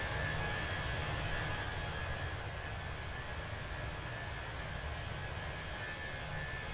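An aircraft engine roaring during takeoff in the flight simulator MSFS 2024, a steady broadband rumble and hiss that holds at a constant level from start to finish, with no talking.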